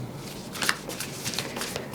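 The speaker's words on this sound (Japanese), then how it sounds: "最後にもう一枚オラクルカードを引いてみますね。" Oracle cards are shuffled up close, giving soft papery riffles and slides in quick bursts over about two seconds.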